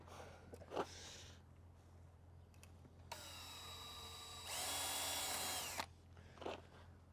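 A power screwdriver drives the final screw into a kit build: a few short whirring bursts, then a sustained run that rises in pitch and stops abruptly. Faint handling noises come before and after in a quiet space.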